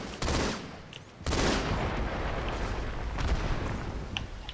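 Gunfire in Halo 2: Anniversary, a Team Doubles match on the Shrine map: a steady barrage of shots with a heavy burst near the start and another after a short lull, loud and continuous with no talk over it.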